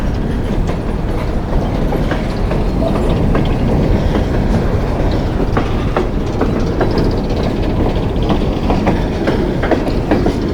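A long coal train rolls past near Mount Hope, West Virginia, a loud continuous rumble with steady clickety-clack of wheels on rail and occasional metallic clanks, close and unbroken for the whole stretch.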